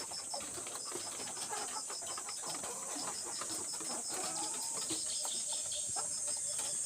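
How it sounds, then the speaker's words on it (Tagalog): Layer chickens clucking and calling steadily in a flock, with a constant high insect-like buzz and farm ambience throughout; no talking. "Yan po ating mga alagang manok na layer chickens"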